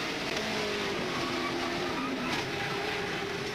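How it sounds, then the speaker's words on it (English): Onboard a NASCAR stock car in the 2002 Daytona 500, a sustained roaring engine drone with steady pitch, loud and continuous throughout, with no voices over it. "On board with Jimmy Johnson in Lowe's car."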